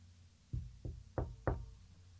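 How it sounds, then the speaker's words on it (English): Someone knocks on the door of a house: four firm, evenly spaced raps, fairly soft and isolated against a quiet background. "So by and by, they knocked at the door of Piglet's house."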